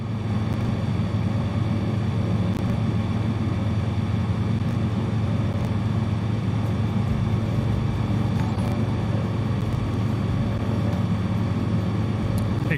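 A bush plane droning in Microsoft Flight Simulator 2020, its propeller engine holding a steady, loud, unbroken hum throughout with no talking.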